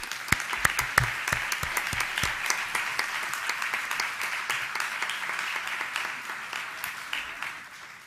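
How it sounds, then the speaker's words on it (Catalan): Audience applause at a Catalan conference on alternative penal measures, dense clapping that starts with sharp individual claps and settles into a steady, even roar for about eight seconds, easing slightly at the end. "Per elles demano un aplaudiment."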